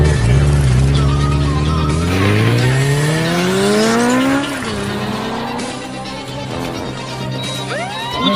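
A car pulls away hard with tires squealing. The engine is loud and close, rising steadily in pitch as it revs up, and the tires screech through the acceleration.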